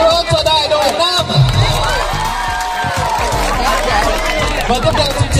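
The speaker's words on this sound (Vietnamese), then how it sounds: "Một tràng pháo tay to nữa cho đại đội Nam." Loud, dense crowd noise with cheering and chatter fills a school national-defense experience week event at An Lão High School as a company is applauded, steady throughout with no clear break.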